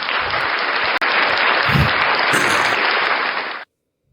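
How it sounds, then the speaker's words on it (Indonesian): Applause from an audience at an interfaith debate, a dense, steady wash of many hands clapping, loud and close, running unbroken for several seconds before stopping abruptly. "tepuk tangan buat Tuhan"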